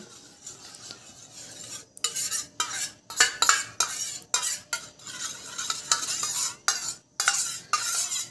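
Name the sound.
stirring vitamin E capsule into a cream mixture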